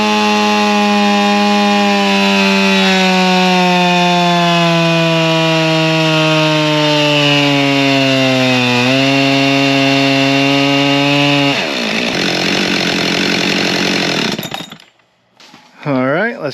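A Husqvarna 572xp chainsaw with its stock muffler runs loud and close at a steady high-revving roar, its pitch sagging and recovering, then dropping off sharply before the engine cuts out and briefly restarts.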